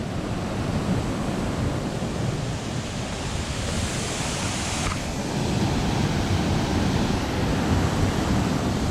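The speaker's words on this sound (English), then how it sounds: "That is so refreshing when there's moving water somewhere like this." Water pours down the Cascadas Mismaloya waterfall near Puerto Vallarta, a steady, close, loud rushing roar that holds at an even level throughout with no voices.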